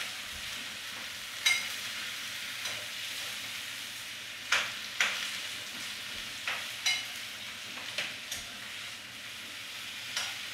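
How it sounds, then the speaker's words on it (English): Escovitch fish pickle vegetables sweetened with a little sugar get a quick stir in a pan, spoon scrapes and clinks landing in scattered bursts over a steady, soft sizzling hiss. "Give that a quick stir again."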